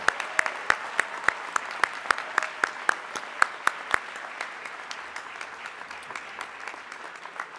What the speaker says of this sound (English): join me in applauding your family and friends that are here in support of you today